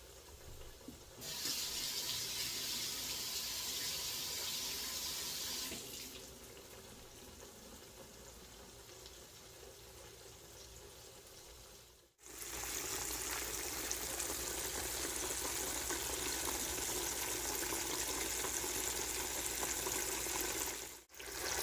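Tilapia fillets fry in a big deep fryer, a steady hiss and crackle of hot oil that surges loud as the fish drops in, with a brief drop-off midway before the sizzle resumes, close by and continuous.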